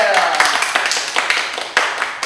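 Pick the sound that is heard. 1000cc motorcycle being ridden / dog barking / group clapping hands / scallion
group clapping hands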